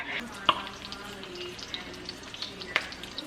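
Hot oil spatters and sizzles steadily as defrosted meat fries in a covered pan, with a couple of sharper pops standing out above the continuous crackle and a voice speaking faintly in the background.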